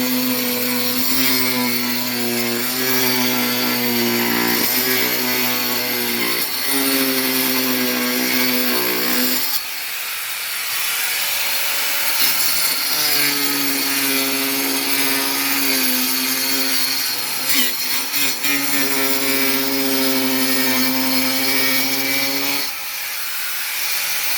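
A power grinder fitted for cutting garden plants trims a yard, its high whining drone running loud and continuous with pitch shifts as the blade bites into growth, no voices.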